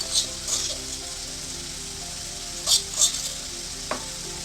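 Crushed ginger and garlic frying in hot oil for a meatball curry, a steady close sizzle with a few louder stirring scrapes against the pan.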